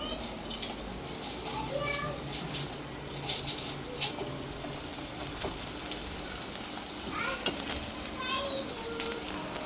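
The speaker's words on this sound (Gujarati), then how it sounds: "ઘી में આમાં ફ્રાય કર્યું છે ઘીમાં અને ગોંદને બસ આવી રીતે ફૂલી જાય" Edible gum (gond) frying in ghee for a wheat-flour sukhdi sweet: a continuous crackling sizzle with bubbling pops and occasional stirring scrapes, close and steady throughout, with a voice speaking faintly underneath.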